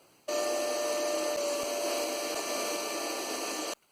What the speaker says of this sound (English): So I'll hoover these out.